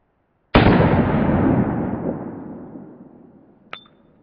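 A single loud, sharp 9 mm gunshot strikes a kevlar helmet, its booming crack decaying over a few seconds, followed by a brief faint metallic click.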